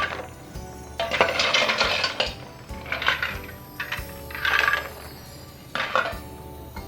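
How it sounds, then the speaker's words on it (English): Ice cubes tumble and clatter into a cocktail glass in several close, loud bursts of rattling and clinking, separated by brief pauses. "I'm gonna finish topping that off with a little more ice here"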